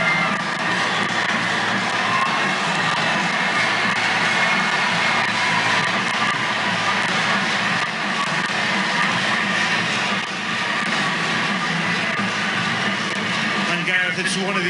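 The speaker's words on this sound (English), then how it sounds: "Listen to the roar that they're going to get from this crowd." Home crowd at the Hong Kong Sevens rugby World Series qualifier against Mexico roars and cheers in a dense, sustained wall of noise across the stadium, with a commentator talking over it throughout.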